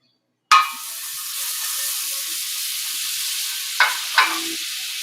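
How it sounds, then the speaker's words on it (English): Butter drops into a hot pan and erupts into a sharp sizzle that settles into a steady hiss, followed by two quick clinks of a spoon or spatula against the pan. "We're going to go ahead and add our butter"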